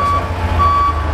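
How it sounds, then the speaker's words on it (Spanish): Reverse alarm on a Komatsu C-50 sit-down forklift, a steady electronic tone that sounds in two clear beeps close by over a low engine idle. "Ahí nos cercioramos también que la alarma de reversa funciona y que la torreta también funciona."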